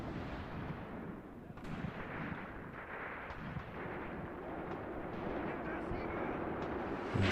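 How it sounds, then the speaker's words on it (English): Artillery fire in Graviteam Tactics: Mius Front, with dull distant booms and sharp reports scattered over a constant rumbling battlefield roar. "And now artillery coming in."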